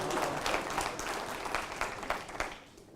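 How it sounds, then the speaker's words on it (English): An audience at a lecture on risk society and precaution breaks into a brief round of dense clapping that stays full for about two and a half seconds before tapering off. "Please, a round of applause."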